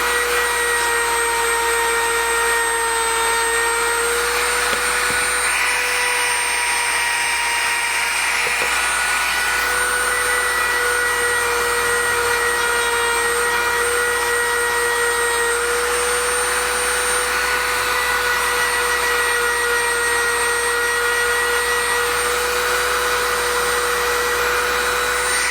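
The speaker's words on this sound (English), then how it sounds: "So just let me finish buffing that out." Handheld power tool buffing out a finish, a steady high-pitched whine with a constant tone that runs unbroken and fairly close throughout.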